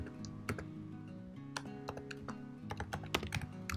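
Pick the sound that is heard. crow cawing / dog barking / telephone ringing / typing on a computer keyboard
typing on a computer keyboard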